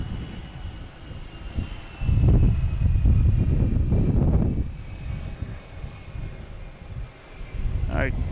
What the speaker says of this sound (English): We got a JetBlue here heading to Nashville, flight